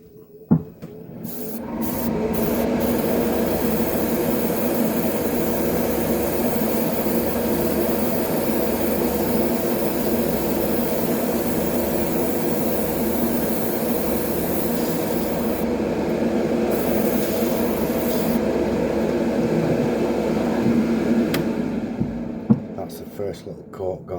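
A hobby spray tool and a workshop extractor fan run together in a continuous, even mechanical drone with a steady low hum, starting and stopping with sharp clicks at either end.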